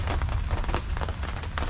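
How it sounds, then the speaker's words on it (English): Steady morning rain patters on surfaces close by, a dense continuous hiss with scattered louder drops and a low rumble underneath, with no voices. "So it's been raining all morning."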